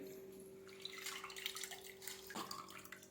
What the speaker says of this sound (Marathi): ही डाळ ह्या चाळणीमध्ये काढून घेणार आहे जेणेकरून ह्यातलं पाणी पूर्ण निघेल